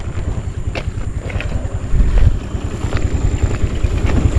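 A motorcycle engine idles close by outdoors at night near frog-filled ground, giving a steady, rapid low throb. Gusty wind buffets the microphone over it.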